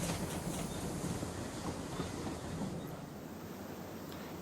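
A train rolls steadily along the rails, a continuous rumbling clatter that stays loud and close for the whole stretch with no voices.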